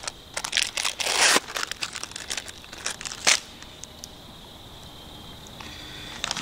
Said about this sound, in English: Struggles of getting the cheese open.